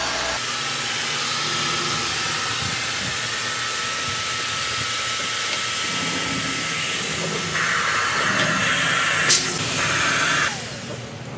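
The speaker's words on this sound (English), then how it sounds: "Using the elite compressor, it's easy to blow up the fenders." An Elite electric compressor inflates a flat boat fender with a continuous loud whirring hiss that holds steady, rising slightly in pitch near the end before cutting off.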